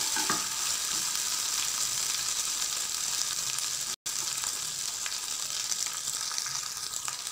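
Onion and garlic fry in a pan with a steady, loud, broadband sizzle that runs almost unbroken, with only a brief dropout midway and no talking.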